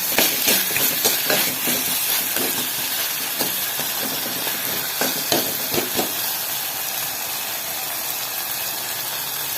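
Ground pepper, cumin and dried chilli sauté in a pan with a hissing sizzle, punctuated early on by a run of quick scraping, clacking stirs that thin out toward the end.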